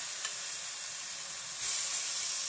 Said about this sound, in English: I'm gonna let them fry for 2 to 3 minutes